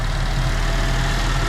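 A car engine idles while still not fully warmed up, a steady low rumble with no variation and no talking.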